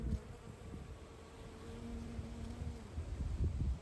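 European honeybees and an Australian native bee foraging on blackberry flowers give a steady close insect buzz with a faint droning hum, continuous and soft, with no voices.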